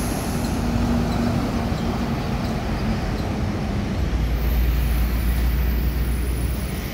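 Passenger buses crowd a busy road during the Indonesian holiday homeward rush, their engines and tyres forming a steady, loud roar of passing traffic with no break.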